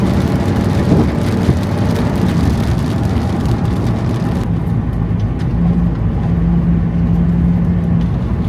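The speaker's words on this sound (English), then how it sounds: "it really started raining" Rain hitting a van windshield, a dense steady patter and hiss that stays loud throughout, heard from inside the vehicle with no talking.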